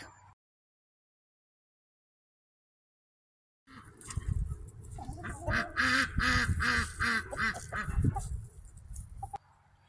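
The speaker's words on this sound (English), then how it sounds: "We do have turkeys here on our farm." After a few seconds of silence, a flock of farm turkeys gobbles and chatters loudly and continuously close by, with overlapping calls.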